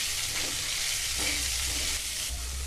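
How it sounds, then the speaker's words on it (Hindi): Onion sizzling and frying in a pan with potato and capsicum, a steady loud hiss with occasional stirring scrapes, close up and without speech. "अब इसमें हम प्याज डालेंगे और अच्छे से हम भूनेंगे।"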